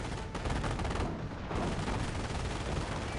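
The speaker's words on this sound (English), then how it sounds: "But this artillery is going to play a big role. It's going to just massacre the base." Artillery fire pounds continuously in the real-time strategy game Company of Heroes, a dense, loud barrage of overlapping blasts and gunfire with no pauses over several seconds.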